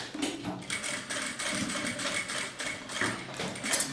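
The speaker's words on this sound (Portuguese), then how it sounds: "E passa a costura." A sewing machine stitches a seam on a small double craft pouch, a steady close mechanical whirring and clicking that runs the whole time.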